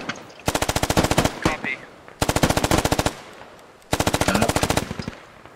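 Three long bursts of medium machine gun fire in the SquadOps video game, each a rapid, evenly spaced string of loud shots with short pauses between them and brief voices in the gaps.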